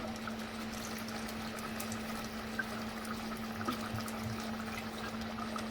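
Steady running water pours continuously into a cooking pot holding mutton and vegetables, with a constant hum underneath, a few faint clinks near the middle, no talking.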